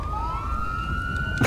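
Police car siren in a video game, a single steady wail rising slowly in pitch, loud and alone, cut off by a burst of noise at the end.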